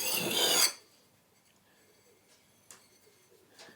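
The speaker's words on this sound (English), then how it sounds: "just push the burr back the other way" A knife edge is sharpened on a stone, with one short, close rasping stroke at the start, then near quiet with a few faint scrapes.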